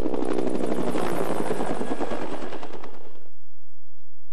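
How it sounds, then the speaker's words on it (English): Canadian Forces helicopter flying, a loud, close rotor chop with rapid rhythmic thumping and engine roar that cuts off abruptly near the end, leaving a faint low hum. "A helicopter requires more delicate flying maneuvers than an airplane."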